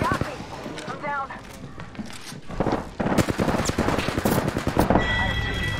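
Bursts of rapid automatic gunfire in a team shooter video game, crackling loudly and repeatedly over a busy mix of game effects and announcer-style voices, growing denser in the second half.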